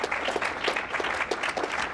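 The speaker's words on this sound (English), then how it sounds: "give yourselves a round of applause" Audience applause at a celebration for a new innovation district in Springfield: steady, moderately loud clapping from a gathered crowd with distinct individual claps audible throughout.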